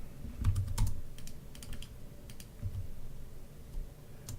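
Keys on a computer keyboard clatter in short bursts and single taps, close and fairly quiet, with pauses between the groups and no talking.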